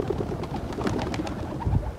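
Pigeons coo in a low, murmuring run, with a fuller coo swelling near the end over steady background noise; no talking.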